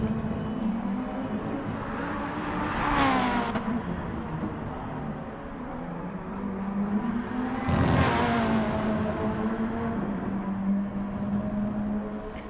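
A Mitsubishi race car engine drones and revs in Gran Turismo Sport during a race at Maggiore, its steady buzzing note rising and falling, with two sharp whooshing passes as cars go by.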